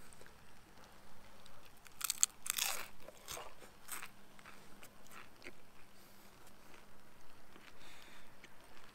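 Someone bites into crunchy oven-baked nachos, giving a few loud crisp crunches near the start followed by quieter chewing close to the microphone, with no talking.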